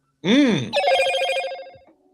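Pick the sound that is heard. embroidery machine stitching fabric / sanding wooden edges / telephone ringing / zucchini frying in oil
telephone ringing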